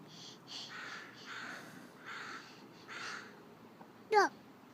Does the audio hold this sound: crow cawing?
yes